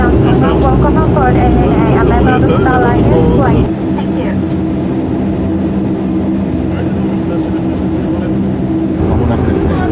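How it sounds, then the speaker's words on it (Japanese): Airliner cabin at Chubu Centrair Airport before takeoff, a steady loud low engine and air rumble filling the cabin, with a voice talking over it for the first few seconds before the drone continues alone. "まもなくですね、中部国際空港セントレアの方を離陸します。"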